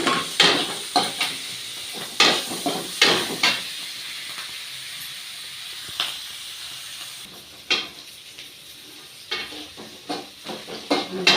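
Green chillies fry in a pan with a soft continuous sizzle, broken by repeated sharp scrapes and stirs of a utensil against the pan at an uneven rhythm.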